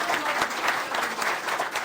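A church congregation claps for two presenters, dense steady applause filling the room, moderately distant and without speech.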